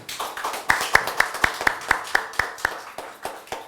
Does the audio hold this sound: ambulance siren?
no